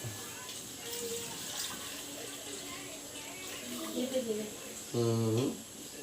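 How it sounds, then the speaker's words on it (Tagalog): Water runs steadily from a tap into a cooking pot, a soft continuous splash under a person talking nearby, ending with a brief louder gush. "hulog po natin ang ating tubig"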